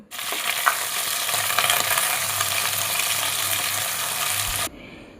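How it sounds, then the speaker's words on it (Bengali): Sliced flat beans fry in hot oil in a pan, giving a loud, steady, dense sizzle that runs without a break for over four seconds and then cuts off abruptly near the end. "সিমটাকে একটু লাল করে ভেজে নেব"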